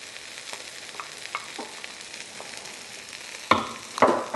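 Garlic and minced chilies frying in a pan, a quiet background sizzle with scattered stirring ticks, then two louder bursts of hiss and spatter as the mix is stirred, no voices.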